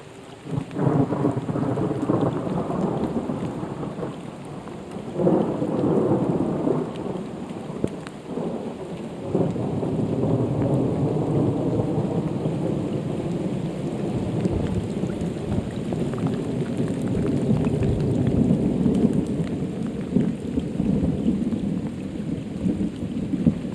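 A thunderstorm during a realistic fishing game outing for bass and bluegill: steady heavy rain hisses throughout while several deep thunder rumbles roll in and swell, loud and continuous, with no voices.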